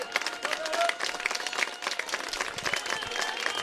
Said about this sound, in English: Greenville faithful trying to cheer on Brody Fowler